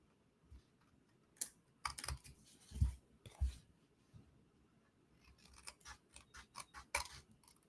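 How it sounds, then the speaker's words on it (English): Scissors cut strips of craft material in a quiet room, giving a series of short, crisp snips in irregular bursts at close range with no one talking. "now I'm going to come in and I'm just going to cut the rest of this off"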